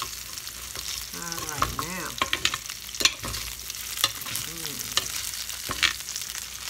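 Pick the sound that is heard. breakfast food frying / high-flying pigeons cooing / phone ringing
breakfast food frying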